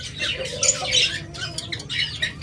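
Caged pet birds, budgerigars, lovebirds and cockatiels kept for sale in pairs, squawk and chirp continuously in a busy overlapping chorus at close range, with no talk.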